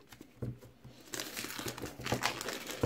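Plastic packaging crinkles and tears while an Oppo A53s phone is unboxed, close and busy rustling that gets louder and more continuous as it goes, with no voice over it.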